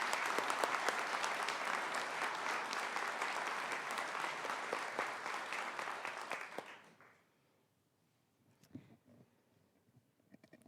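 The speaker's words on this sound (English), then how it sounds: "Can we give him one more round of applause?" A large audience at a spring college commencement ceremony claps steadily and loudly for about seven seconds, then the applause fades quickly into near silence with a few faint scattered sounds.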